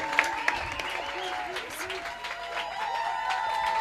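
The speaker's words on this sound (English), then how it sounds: "Give her a big round of applause." Audience applause for a third-place winner at a sales workshop and expo in Gugulethu, steady moderate clapping from a crowd with voices talking and cheering over it.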